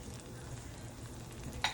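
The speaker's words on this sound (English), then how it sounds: "I'm gonna go ahead and add butter to the same pot" Butter sizzling and crackling as it melts in a hot pot still holding seasonings and juices, a short steady frying hiss close by with one brief clink near the end.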